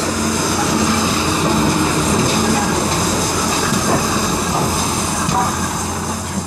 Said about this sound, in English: Fritwell Manor gets underway with the westbound train